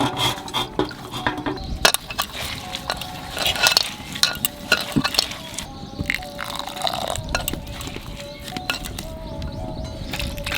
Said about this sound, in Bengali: নারকেলের দুধটা বের করে নেব।